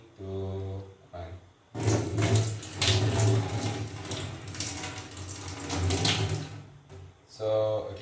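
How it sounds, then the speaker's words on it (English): Dish soap and another liquid poured together into a sink, a loud splashing, rushing water-like flow lasting several seconds, with brief speech before and after the pour. "so I'm going to pour both simultaneously. One is dish soap and one is liquid"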